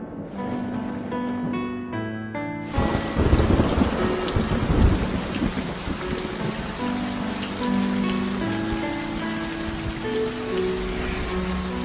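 Heavy rain pours down with deep rumbling thunder, bursting in after a brief quieter opening and staying loud and dense to the end, with no talk.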